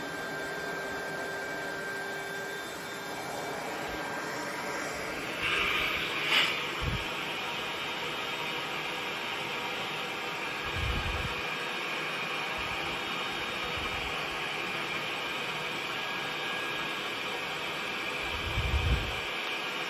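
A Lindhaus Valzer L-Ion cordless vacuum cleaner runs on high speed in a steady, fairly loud whine with a broad hiss, joined by a few brief low thumps along the way.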